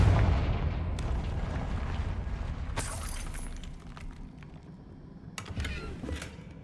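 The Confringo explosion spell goes off in Hogwarts Legacy, a loud booming blast that decays into rumble, followed by sharp crackling impacts and debris bursts.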